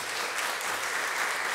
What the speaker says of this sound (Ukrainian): Оплески попрошу.